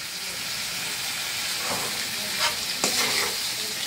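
Chicken stir-fried with spices in a pan for a home-style curry, a close, continuous sizzle broken by a few sharp scrapes and clacks of a spoon mixing toward the end, no talking.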